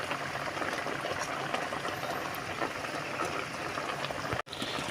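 Sinaing na galunggong, scad fish with fat simmering in a pot, a soft steady bubbling and hissing boil, close but quiet, continuous with a brief dropout near the end.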